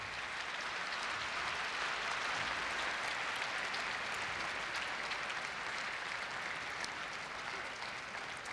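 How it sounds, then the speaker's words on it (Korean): A large hall full of people applauds at the Korea University 2016 entrance ceremony, a steady, even wash of clapping heard at a distance that holds constant throughout. "다시 한번 큰 박수 부탁드립니다"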